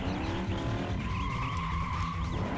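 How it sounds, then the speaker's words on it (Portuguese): A car in Street Legal 1: REVision, its engine revving high while the tires squeal in a sustained screech over steady engine roar, with no voices heard. "O carro canta muito pneu em alta rotação"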